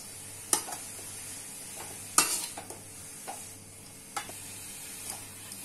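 Carrots and other vegetables being stirred in a pan for a tricolour poriyal, with a soft steady sizzle under irregular scraping and clinking strokes of the spoon against the pan.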